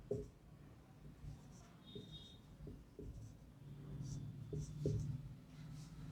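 Pen or chalk writing during a classroom lesson on disease control: soft scratchy strokes come in short bursts, with a low murmur beneath, fairly faint and close.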